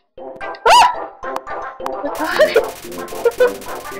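Short yaps and bow-wow barks of a dog in the video game Undertale, several bright bursts in an uneven rhythm over a soft chiptune-like backdrop, close and fairly loud.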